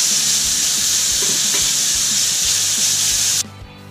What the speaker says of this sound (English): What we're basically going to do is cook this, but not to the point of being crispy